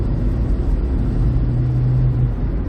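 A 1989 Renault 21 1.7 GTS engine rumbles loud and steady while the car is driven, its tone holding up continuously with a slight rise in pitch partway through, and no talk over it.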